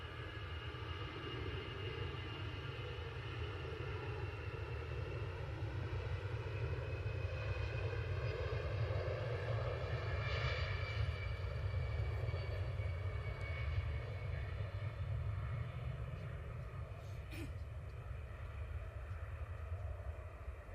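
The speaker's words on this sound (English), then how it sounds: "So, EasyJet off to Reykjavik." An EasyJet airliner bound for Reykjavik rumbles steadily in the distance at an airport, a faint, continuous engine roar holding for the whole stretch with no talk.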